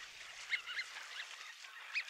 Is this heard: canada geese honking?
yes